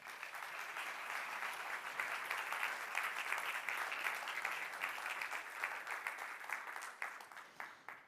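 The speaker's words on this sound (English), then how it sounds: "all we need to do now is give you a big round of applause" Conference audience at the Destination Europe Summit applauds Thierry Breton, a thick, continuous round of clapping held at a steady level for several seconds before thinning out and fading at the close.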